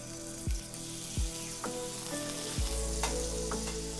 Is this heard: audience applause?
no